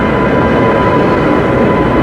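Amrit Bharat Express passenger train hauled by a WAP7 electric locomotive from the Kanpur shed, a loud, steady broadband rumble and roar of the train running close by at a station platform, with no break across the whole stretch.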